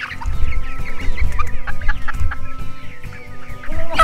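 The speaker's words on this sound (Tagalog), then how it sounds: "medyo magalit na sa akin itong mga manok na to kasi hindi ko na sila nilagyan ng feeds" Hungry free-range chickens in a moveable 400-head pen cluck loudly and continuously, a busy overlapping flock calling close by with no voices.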